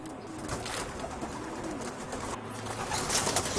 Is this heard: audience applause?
no